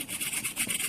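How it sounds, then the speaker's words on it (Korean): Steady scratchy rubbing of sandpaper against the edge of a napkin-art decoupage piece, a continuous rasping texture with slight rhythmic swells, close and moderately loud. "이 제거하는 방법은 사포를 이용해서 하겠습니다"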